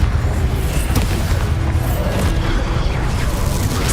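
A Confringo explosion spell in the Hogwarts Legacy video game, a loud continuous rumbling blast with crackling bursts throughout, dense and close.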